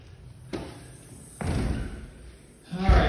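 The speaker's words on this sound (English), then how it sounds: "Try to knock my feet off, it's been raining." Heavy thuds of wet feet stomping on a hard floor inside a front door on a rainy day, three dull impacts spaced about a second apart, close by.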